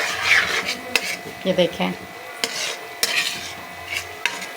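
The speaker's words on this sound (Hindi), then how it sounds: "हम इसको अच्छे से इसलिए भूनते हैं ताकि ऑयल ऊपर आ जाए और कच्चापन इसका ख़त्म हो जाए।" Masala being stirred and fried in oil in a pan for fish curry, with a utensil scraping and rasping through the thick paste in repeated strokes, a faint sizzle beneath and a brief spoken remark.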